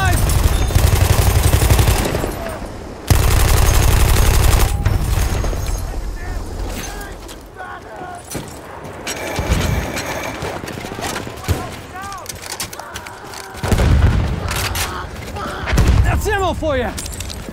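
MG14 machine gun firing in Battlefield 1, long loud bursts of rapid automatic fire alternating with shorter volleys, mechanical clatter and distant battle noise, with a voice talking between bursts.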